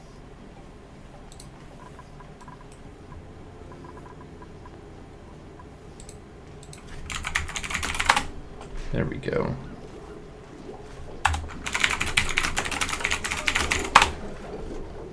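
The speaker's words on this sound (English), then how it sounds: "Please ignore my typing." Keys clatter on a computer keyboard in two bursts of rapid typing after a quiet start, close and fairly loud, with someone speaking briefly in between.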